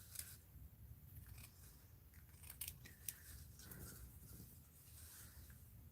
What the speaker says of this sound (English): let me just snip these